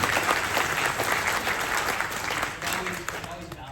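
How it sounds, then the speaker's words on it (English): Audience applause at a San Diego Comic-Con 2025 panel, dense clapping from the crowd that fades slightly toward the end, with voices audible beneath it. "We should give him a round of applause for doing this."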